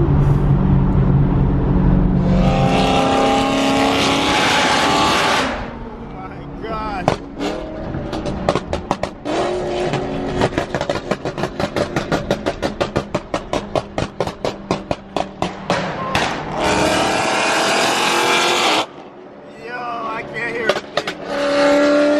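Several BMW M cars travel along a New York highway, loud broadband engine and road roar swelling as cars pass close by, with a rapid series of sharp pulses in the middle like downshifts or exhaust pops, and a voice talking briefly.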